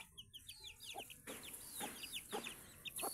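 Chicks, two of them squabbling, heard as soft repeated clucks and short chirps, fairly close but quiet, with a few sharper calls scattered through a few seconds and no talking.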